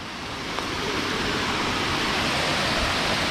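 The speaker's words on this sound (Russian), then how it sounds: "О, боже, водопад." A steady, dense roar of falling water, broad and constant throughout with no pauses, like standing close to a waterfall.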